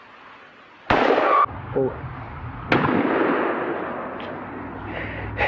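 Loud gunshots ring out at an outdoor shooting range, two sharp blasts about two seconds apart, each followed by a long echoing decay, with a startled voice calling out after the first shot.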